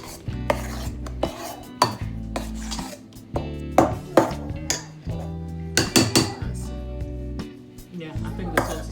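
Akara bean batter being stirred by hand in a bowl, giving repeated scraping and knocking strokes of a utensil against the bowl in an uneven rhythm, close and fairly loud, with some background music underneath.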